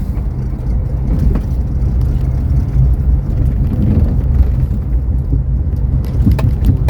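A CNG-powered ola/uber cab pulls over to park amid jammed city traffic, its engine and road rumble forming a loud, steady wash of noise throughout with no voices.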